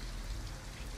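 Steady rain from a video game pours down in a short, continuous wash of broadband hiss with a low rumble, even and unbroken throughout, with no talk over it.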